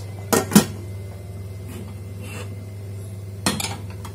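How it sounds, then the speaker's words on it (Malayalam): A metal frying pan, a cheenachatti, set onto a stove while cooking a Trivandrum-style fish curry: a couple of sharp metallic clanks at the start and another clatter near the end, close and fairly loud over a low steady hum. "ഈ അടുപ്പിലേക്ക് ഞാനൊരു ചീനിച്ചട്ടി വെച്ചു."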